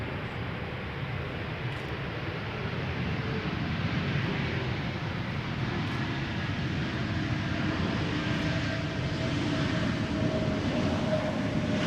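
An ITA Airways passenger jet arriving at Amsterdam Schiphol from Milan on a sunny day, its engines giving a steady, broad roar that holds at an even level throughout, with no voices.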